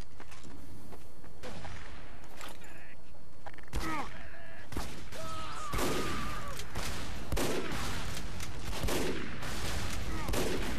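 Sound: machine gun fire in video game Team Fortress 2

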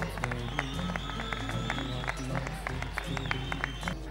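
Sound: audience applause at scout festival awards

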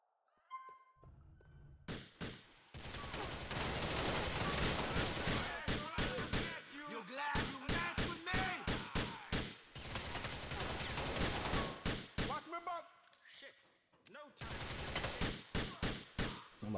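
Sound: intense gunfire

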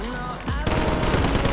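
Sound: gunshots in the video game Warzone

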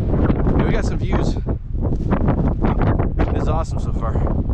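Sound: strong wind on microphone

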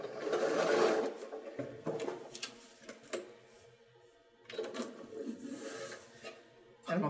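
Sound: sewing machine stitching on the line with shortened stitch length

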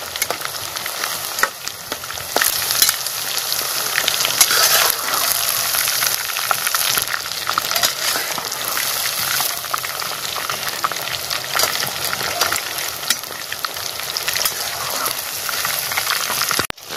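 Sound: chicken 65 deep frying in oil with curry leaves

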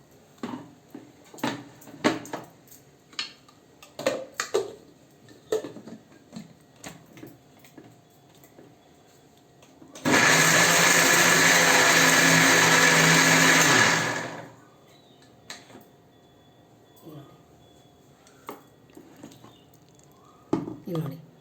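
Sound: mixer grinder jar grinding food

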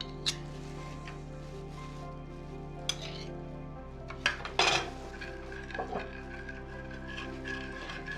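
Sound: stirring carrot, celery and apple salad with oil and honey

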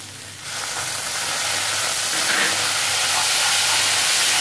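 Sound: vinegar sizzling in hot fried masala

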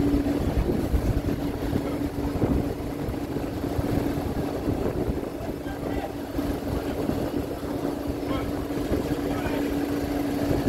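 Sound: ferry crossing from Barra to Banjul port, The Gambia

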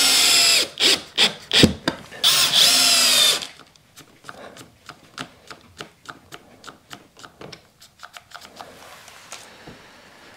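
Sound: cordless screwdriver driving screws into wood

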